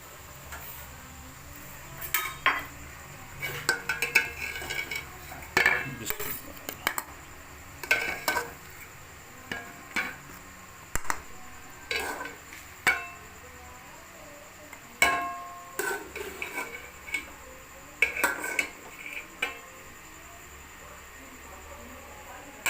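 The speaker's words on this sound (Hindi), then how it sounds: "और मैं आपको डिश आउट करके दिखाता हूँ।" Spoonfuls of cooked mutanjan, a sweet rice dish, served onto a plate, with scattered metallic clinks of a spoon against the pot and dish coming in irregular bursts over a quiet background.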